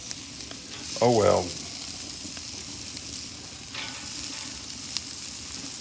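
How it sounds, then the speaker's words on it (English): Sausages sizzle on a carbon steel griddle over a wood-fired rocket stove, a steady close frying hiss that runs throughout, with a brief spoken remark near the start. "Griddling up on this wood-fired rocket stove."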